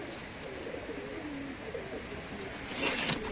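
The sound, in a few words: pigeons flying and cooing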